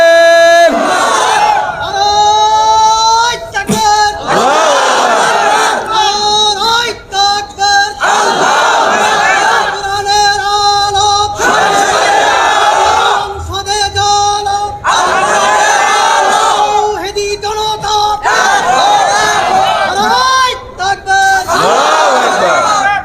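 A large crowd at a religious gathering roars the takbir response in loud, repeated chanted waves, voices surging together and dropping between calls.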